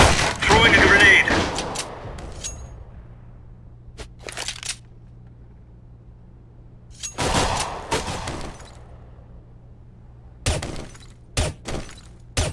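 Smoke and a grenade thrown in the Counter-Strike video game: loud, sharp cracks and shattering bursts arrive in separate clusters with near-silent gaps between them, and a brief voice may come in along with them.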